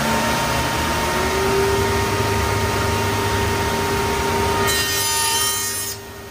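A two-piece dado grooving cutter runs through a clamped piece of wood about 12 millimetres thick, making a loud, continuous whirring, grinding cut that holds steady and then eases off at the end.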